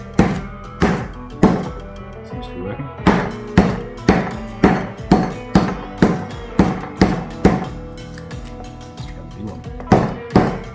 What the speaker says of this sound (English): Now I'm going to bash these suckers and try and just tenderize them a little bit, and hopefully they get a little bit flatter.